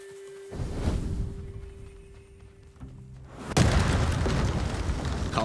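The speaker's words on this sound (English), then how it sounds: "Ah, there's the black powder cache, which we must destroy. Light it up, light it up." A black powder cache detonating in a video game: a quiet tone and a low rumble, then a sudden loud, broad blast that roars on for about two seconds.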